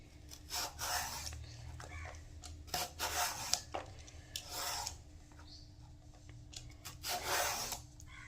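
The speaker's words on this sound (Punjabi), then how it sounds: "ਹੁਣ ਇਹਦਾ ਛਿਲਕਾ ਉਤਾਰ ਕੇ ਇਹਨੂੰ ਕੱਟ ਕੇ ਰੱਖ ਲੈਂਦੇ ਆ" A peeler scrapes the skin off a bottle gourd (lauki) in a home kitchen, giving soft rasping strokes in an irregular series, close and quiet, with a low background hum.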